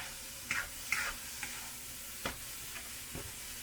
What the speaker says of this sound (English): Just make sure you keep stirring everything up.